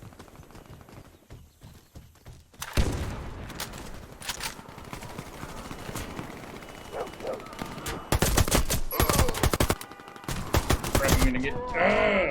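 Video game gunfire in bursts, with rapid automatic volleys and loud close shots that grow denser toward the end, while someone speaks briefly.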